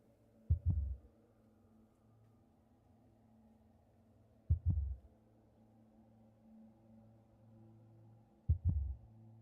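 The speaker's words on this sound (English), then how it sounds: "I hear a heartbeat." A slow, deep heartbeat pulses in a horror video game, each double thump landing about every four seconds over a faint low hum, with no talking.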